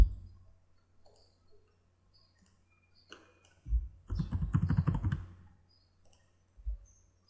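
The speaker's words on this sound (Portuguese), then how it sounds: "a gente vai ter que digitar aqui a senha do usuário e um motivo" A password typed on a computer keyboard: a few faint scattered clicks, then a short burst of rapid close keystrokes, followed by one last isolated tap.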